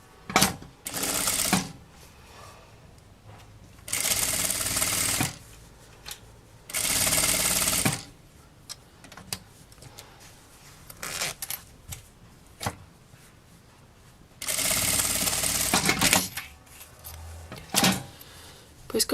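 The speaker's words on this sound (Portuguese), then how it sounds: "Vou pegar aqui do avesso do zíper, coloco estampa do tecido de frente para o avesso do zíper e passo uma costura" Sewing machine stitching printed fabric onto the back of a zipper for a small handmade bag, running in several loud bursts of a few seconds each, separated by quieter pauses with small handling noises.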